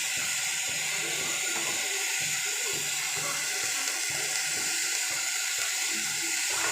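Green chili and capsicum frying in oil in a pan, cooking a filling for egg-stuffed chapathi: a steady close sizzle and hiss runs throughout with no talk.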